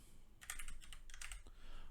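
Someone types CSS code on a computer keyboard, a quick run of close, crisp key clicks in bursts, with no talk.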